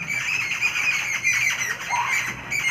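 Several birds squawk and screech repeatedly in a guava tree nearby, a noisy, overlapping chorus with no talking.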